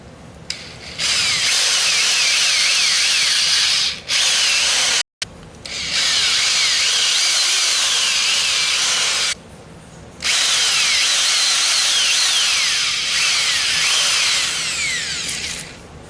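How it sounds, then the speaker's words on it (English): A power drill bores a drainage hole through the bark of a log being made into a flower planter, whining loudly in long bursts with brief pauses and one sharp cutoff, no voices. "we're going to drill our first drainage hole, and we're just going to come through the bark and try to poke it through the other side"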